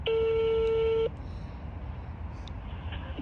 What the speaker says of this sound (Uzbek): biza Shohazizga telefon qilyapmiz